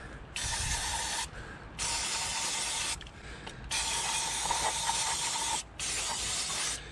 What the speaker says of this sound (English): EGR cleaner, give it a good dousing.